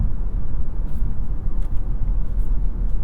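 Drivetrain noise inside a Chevrolet Bolt EUV electric car driving on the highway, a steady low rumbling hum with road noise, fairly loud and constant, no talking.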